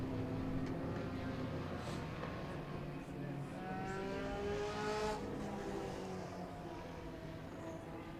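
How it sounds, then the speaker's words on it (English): Late model race cars circle an oval short track under caution, a faint distant drone of engines rising and falling as the pack passes, with an announcer talking over it. "going to catch the big pack of cars running at the tail end with Corbin Kelly, Kukar"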